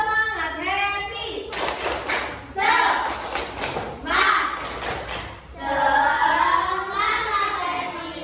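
A classroom of children claps in quick bursts during a chant, with the claps falling in several clustered rounds between stretches of children's and a teacher's voices.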